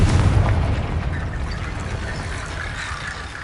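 A Confringo blasting spell goes off in Hogwarts Legacy, a loud, deep boom at the start that rumbles and slowly fades over several seconds.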